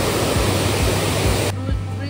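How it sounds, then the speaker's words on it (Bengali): Waterfall beside a living root bridge in Meghalaya: a steady, close, broadband rushing roar that fills the whole clip and drops somewhat in level near the end. "আর এই হলো ঝর্ণাটা, অসম্ভব সুন্দর লাগছে ঝর্ণাটা দেখতে।"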